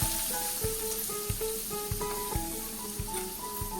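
Finely chopped onion hits hot oil seasoned with asafoetida and red chilli for a dhaba-style dal, giving a steady close sizzle with repeated soft knocks and clinks of stirring, no voices.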